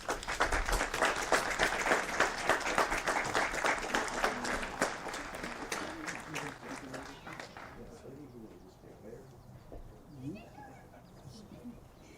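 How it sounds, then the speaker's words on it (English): Audience at a Congressional Gold Medal award ceremony applauds, a full burst of clapping that fades out after several seconds, followed by quieter room sound with faint voices. "Give a round of applause."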